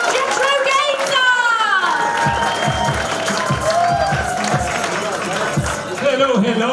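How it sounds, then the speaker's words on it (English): A crowd at a live standup comedy competition claps and cheers loudly, with rapid clapping under shouts and whoops throughout. "Bluey, please put your hands together in a clapping motion"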